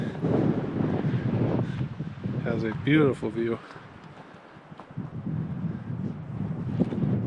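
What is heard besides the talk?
wind blowing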